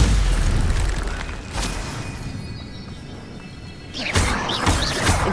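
A Stupefy spell is cast in the Hogwarts Legacy video game, a magical blast heard over a dense, noisy bed of combat sound effects. A sharper burst of impacts comes near the end.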